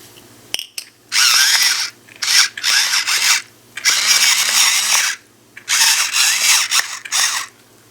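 A pepper mill grinds pepper over a bowl of egg mixture for a make-ahead breakfast. It gives five loud bursts of harsh, ratcheting crunching, each separated by short pauses, with no talking.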